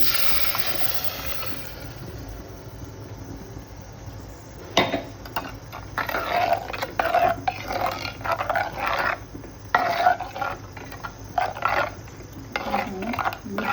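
A spoon repeatedly scrapes and stirs a thick ground masala paste in a pan for black mutton curry, making irregular rasping strokes over a low background hiss.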